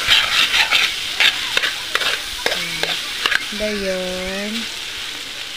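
Lumpia fry and sizzle in a pan while being stirred and scraped with a utensil, giving crackling hiss and several clattering knocks, followed by a short spoken word over the cooking.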